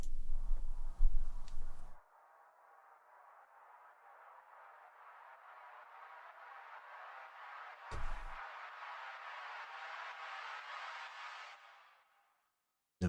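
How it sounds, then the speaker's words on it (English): Reversed sound passed through a long impulse-response reverb, producing a breathy swell that rises gradually over several seconds and cuts off abruptly, framed by brief bursts of other music before and after. "I reverse the sound, bounce them through this reverb, take that entire reverb sound and record it, reverse that back and create a lovely swell"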